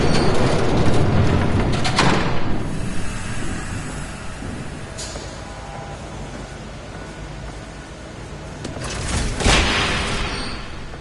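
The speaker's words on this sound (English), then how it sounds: "There's a train coming." In Batman: The Telltale Series, a train rumbles past in a continuous loud roar with rattling surges, swelling near the start and again toward the end.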